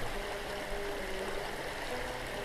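Kirby Creek flows below Shirley Hill in autumn, a steady soft rushing murmur of moving water heard alone, faint and even throughout.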